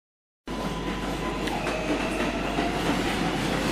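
Subway train running through a station on a three-track stretch with two platforms at 46th Street on 8th Avenue, a steady loud rumble with wheel hum and faint squealing tones sustained throughout, no talking.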